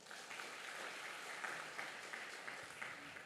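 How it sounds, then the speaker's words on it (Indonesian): A church congregation claps together during an Indonesian sermon, a faint, even patter of many hands filling the room for a few seconds with no voices on top. "Berikan tepuk tangan buat Tuhan."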